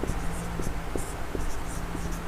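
A pen writes on paper during a classroom lesson, making short scratchy strokes in a loose, irregular rhythm over a steady low background hum.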